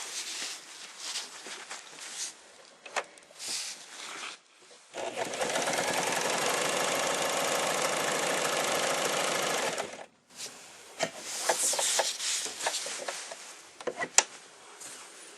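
A Swiss Elna 220/240 semi-industrial sewing machine stitches a zigzag seam, a loud steady motor-driven chatter lasting about five seconds, framed by handling clatter and fabric shifting before and after.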